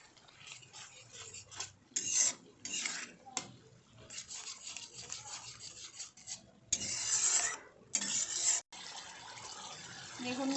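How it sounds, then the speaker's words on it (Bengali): Spices are fried and stirred in a pan for chicken pulao, with a spatula scraping and rasping against the pan in uneven bursts over a soft frying hiss. "আবারও আমি ভালো করে এর সঙ্গে মশলার সঙ্গে কষিয়ে নেব"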